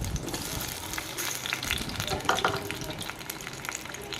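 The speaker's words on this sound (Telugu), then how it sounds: "ఈ విధంగా టమాటాలు, అల్లం అయితే వేసుకొని వీటిని చిన్నగా కలుపుతూ ఉండాలి" Tomatoes and ginger frying in hot oil for a chutney, a continuous busy sizzle with scraping and clinking as a spoon stirs through the pan, fairly close, no talk.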